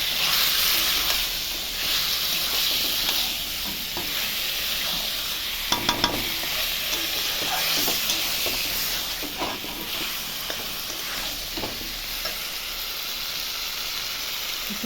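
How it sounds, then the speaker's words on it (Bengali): Meat, potatoes and tomato being stirred with spices in a hot pan, giving a loud continuous sizzle with scraping and occasional clinks of the spoon throughout. "সব দিয়ে ভালো করে আমি মশলার সঙ্গে মিশিয়ে নেবো মাংসটার সাথে।"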